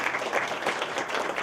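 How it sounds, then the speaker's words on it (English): Brief applause from a summit audience after a Hyperloop Transportation Technologies introduction: a dense, even patter of many hands at moderate distance, lasting just over a second. "A little applause."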